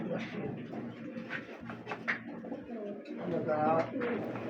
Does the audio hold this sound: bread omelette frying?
no